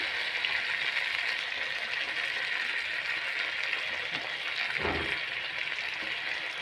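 A steady, hissing sizzle of green chilies and curry leaves frying in hot oil continues throughout, with a brief clatter partway through.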